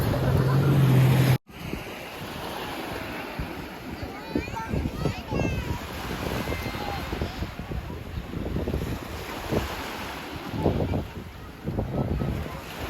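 Ocean surf washes onto a white sand beach at Puerto Galera, a broad steady roar mixed with gusty wind buffeting the microphone, continuing for several seconds after an abrupt bump at the start.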